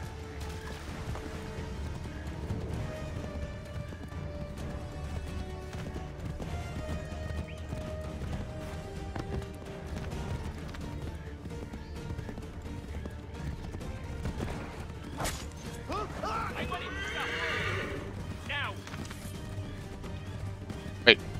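Hooves clip-clop in a running rhythm with a horse's whinny in Assassin's Creed III, game-style effects under busy background sound, and a sharp hit near the end.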